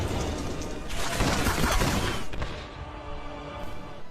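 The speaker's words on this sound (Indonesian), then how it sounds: "salah seorang sniper musuh berhasil menembak Zarin" Gunfire from a sniper rifle in an Iranian war film, a dense burst of sharp loud reports and crashing impacts between about one and two and a half seconds, fading into a lower rumble.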